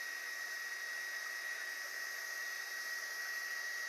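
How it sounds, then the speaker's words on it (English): A heat gun blows steadily over carved foam rock pieces, giving a continuous, even airy whoosh with a faint whine, alone and unbroken. "Now I can go over all of that with the heat gun."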